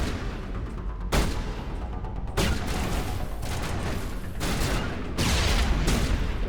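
Grenade blast amid gunfire in Mass Effect: Legendary Edition, with sharp, loud bursts about every second or so over a steady rattle of weapon fire, with no talking.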